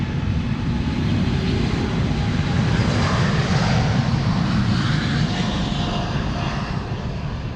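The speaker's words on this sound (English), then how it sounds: "And Turkish flight 1952 is underway." A Turkish Airlines jet, flight 1952, departing Amsterdam Schiphol Airport gives a loud, continuous engine roar, steady and powerful from start to finish.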